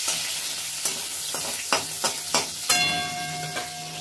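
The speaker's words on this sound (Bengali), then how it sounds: "রসুনটাকে একটু ফ্রাই করে নেব।" Chopped garlic, about a tablespoon, frying in hot oil in a pan, a steady close sizzle broken by several sharp scraping stirs of a utensil.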